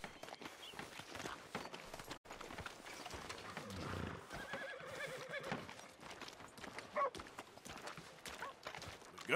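A horse whinnies over steady clip-clopping hooves in Red Dead Redemption 2, set in a busy, layered game soundscape with footsteps and background activity.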